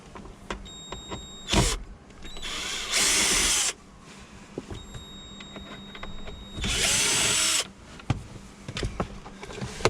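Power screwdriver whirring in two sustained bursts as screws come out of a Renault Clio 5 glovebox, with short tool clicks and handling knocks between runs, close and fairly loud.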